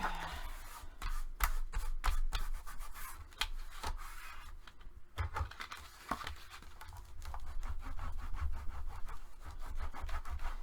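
Paper being burnished by hand onto a mini album page, a close, quick series of dry rubbing and scraping strokes in a steady back-and-forth rhythm, with a short pause midway.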